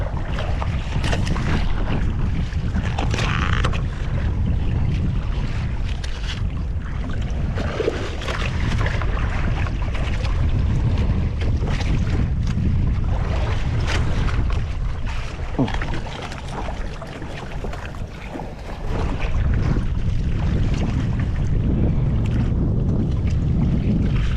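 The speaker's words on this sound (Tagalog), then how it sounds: "Nagitnaan kami ng dalawang ano Dalawang barko" Two ships pass close by a small fishing boat on open sea. Steady engine and water rumble mixes with wind buffeting the microphone, loud and continuous throughout.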